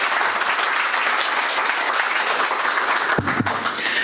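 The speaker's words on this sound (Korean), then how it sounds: "큰 박수로 환영해 주시면 감사하겠습니다" Steady applause from a forum audience welcoming a speaker at an opening ceremony, continuous clapping throughout with a brief thump or bump near the end.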